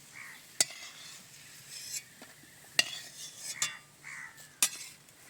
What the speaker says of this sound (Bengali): কিশমিশগুলো সব ফুলে গেছে, বাদামি করে ভেজে তুলে নিচ্ছি।